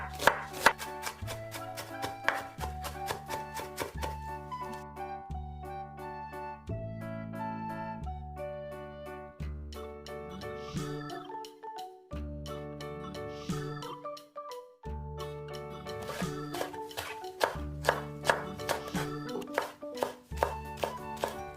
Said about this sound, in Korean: 계란장에 들어갈 향신채소를 최대한 곱게 썰어줍니다.